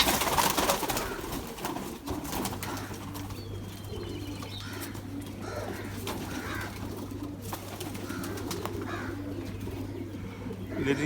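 Pigeons in a loft coo softly and repeatedly against steady background noise, with occasional chirps and wing sounds mixed in.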